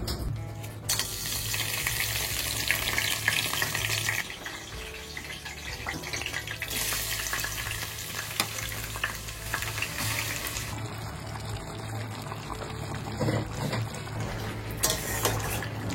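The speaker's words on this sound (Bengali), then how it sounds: "মা এদিকে মাংস রান্না করছে" Mutton curry fries in a pan while being stirred, a loud continuous sizzle with scraping and stirring strokes and bursts of hissing, no talk heard.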